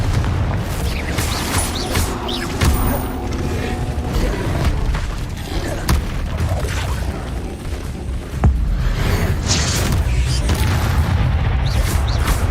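A Confringo fire-blast spell goes off in the Hogwarts Legacy video game amid continuous loud booming combat effects, with a sharp burst standing out partway through.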